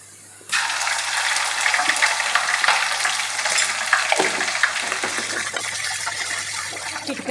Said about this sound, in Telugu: ఇప్పుడు కొంచెం అల్లం వెల్లిగడ్డ పేస్ట్ వేసుకుందాం.